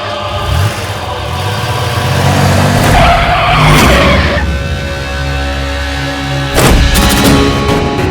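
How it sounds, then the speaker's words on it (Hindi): A car pulling away with tires skidding and squealing, loud and close, engine roaring underneath and a sharp burst of skid noise near the end. "गाड़ी चलाओ।"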